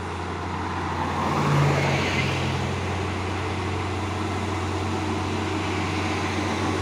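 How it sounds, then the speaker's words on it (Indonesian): Steady road traffic rumble with a low engine drone as Fuso CPO tanker trucks climb an uphill road, a vehicle swelling slightly louder as it passes, then a continuous hum; no voices. "Truk tangki CPO Fuso Victor terpantau ramai kendaraan yang berlewatan dari tanjakan Bukit Kodok."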